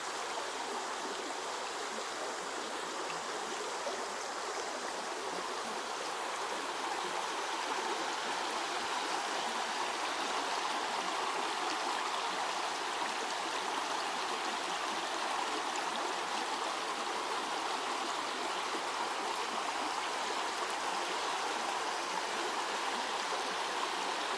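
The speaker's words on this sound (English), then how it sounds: "And the lovely water." A forest stream flows steadily, a continuous soft rushing and babbling that stays even and unbroken throughout, with no voices.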